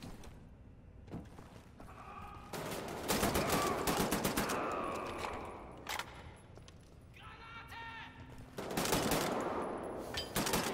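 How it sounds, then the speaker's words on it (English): Gunfire rattles in bursts during a firefight in the video game Wolfenstein: The New Order, with loud rapid automatic shooting and a heavier blast-like burst among the shots, broken by quieter gaps and mechanical clanks. "that was a grenade"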